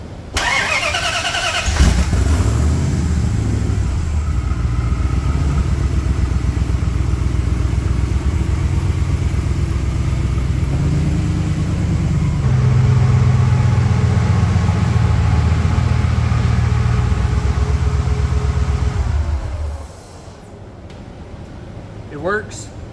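A car engine cranks and catches after fresh rewiring for a dyno build, then runs steadily with a loud mid-pitched idle that swells briefly before shutting off near the end.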